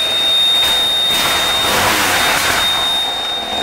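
A BMW R 1200 GS motorcycle engine runs steadily, loud and close, with a constant whine over a broad mechanical roar and no talking.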